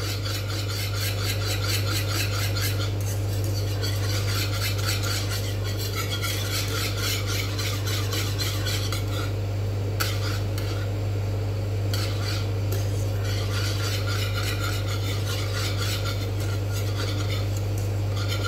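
A whisk scrapes and swirls steadily against a pan of milk and powder being cooked into condensed milk, a continuous rhythmic rasping over a low constant hum, with no one speaking.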